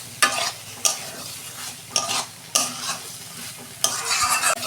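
Vegetarian soybean curry with potatoes sautés in a hot pan, a steady sizzle punctuated by five or six sharp stirring scrapes at irregular intervals, close and loud, with no voices.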